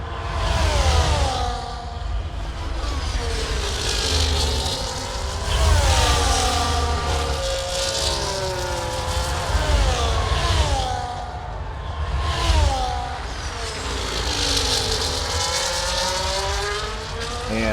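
Onboard F1 race car engine in the F1 24 video game at the Montreal Grand Prix, Circuit Gilles Villeneuve, running with DRS open: a loud, continuous high-pitched engine roar rising and falling through repeated gear changes, with no talk.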